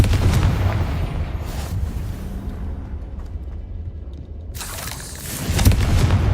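Confringo spell explosion in a video game, a booming blast at the start and another heavy burst near the end, loud and close with rumbling low end, no talking.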